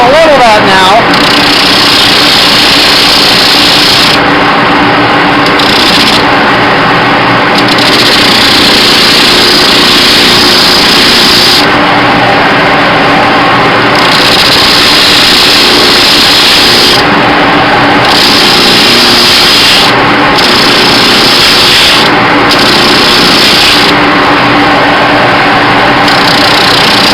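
Power sander leveling and rough-shaping a worn cowboy boot heel, a steady loud motor whine running continuously with brief shifts in pitch and load as the tool presses against the heel.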